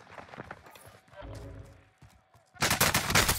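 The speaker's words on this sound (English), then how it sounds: "I'm getting shot." Rapid bursts of video game gunfire crackle loudly, with the densest volley coming at the end, while a player talks excitedly over the action.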